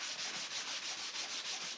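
A sanding block rubs back and forth over wooden birdhouse parts, a soft rhythmic scratchy hiss repeating in quick, even strokes, close up and alone.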